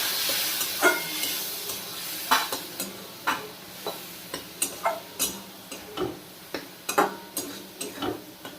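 Ground spices with a splash of water are stirred in a kadai for a Bengali dhokar dalna, a soft sizzle under repeated sharp scrapes and taps of the spoon at a steady, uneven rhythm.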